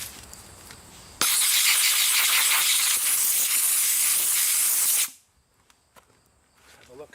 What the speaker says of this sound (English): Grab a little air gun here.